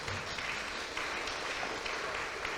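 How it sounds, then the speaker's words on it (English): A short burst of audience applause, a dense, even patter of many hands at moderate level with a few louder claps standing out. "we'll wait for the applause to stop"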